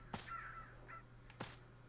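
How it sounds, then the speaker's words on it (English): Crows in a video game, two sharp caws a little over a second apart with fainter cawing calls between them, fairly quiet against low background hum. "Birds?"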